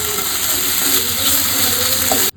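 Rice fries toward golden brown in a pan for a Goan xacuti, a loud, close, unbroken hiss of sizzling that cuts off abruptly at the end.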